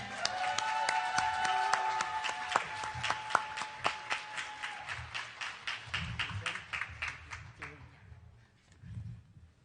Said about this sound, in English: Xin quý vị cho một tràng pháo tay thật lớn cho chú Lương Hoàng Nam